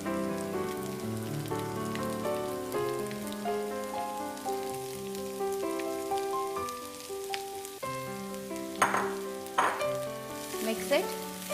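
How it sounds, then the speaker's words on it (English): Finely chopped cabbage sizzles softly in a pan, a light crackling hiss under gentle melodic background music, with a few louder stirring clatters near the end. "Cook this cabbage"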